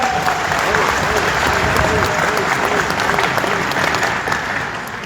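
Sustained, loud applause from a large audience at a business meeting event, dense steady clapping throughout with a voice faintly underneath.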